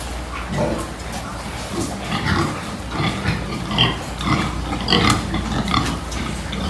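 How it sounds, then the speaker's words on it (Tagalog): Pigs on a Filipino pig farm grunt and shuffle in their pen on a mild day, overlapping calls close by in a busy, steady stream of barnyard noise. "Kaya hindi po hinihingal din yung mga baboy dito."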